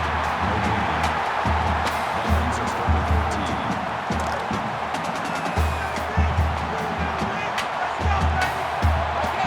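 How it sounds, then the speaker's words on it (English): A steady stadium crowd roar fills a college football game in NCAA 14, Minnesota at Ohio State, holding a constant, dense murmur with occasional swells. "The crowd at this stadium, always a factor in a football game."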